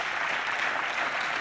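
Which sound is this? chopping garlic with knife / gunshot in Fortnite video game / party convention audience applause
party convention audience applause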